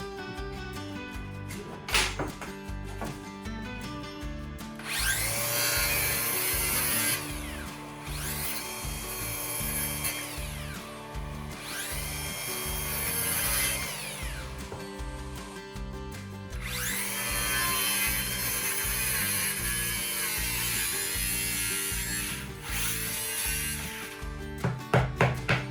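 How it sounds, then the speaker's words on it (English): A circular saw fitted with dust collection cuts wood at a building site in an old Japanese house. Several loud, sustained whining passes come close up and are separated by short pauses, with clunks and knocks of handling at the start. "A dust collection circular saw is a bit awkward to handle."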